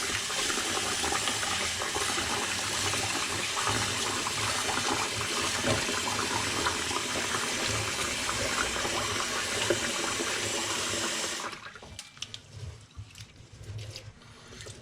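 Water gushes steadily into a container of sushi rice being rinsed for a long stretch, then cuts off, leaving faint sloshing and small clatters.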